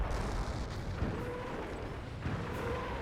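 A landmine detonates in the Company of Heroes battle game, a dense continuous low rumbling boom with scattered bursts on top, loud and sustained under the wider noise of combat.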